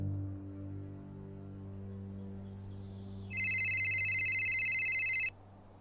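Telephone ringing with a steady electronic trill for about two seconds, clear and close, after a low hum.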